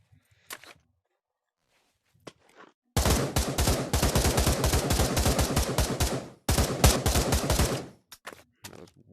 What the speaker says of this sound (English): That was one mag.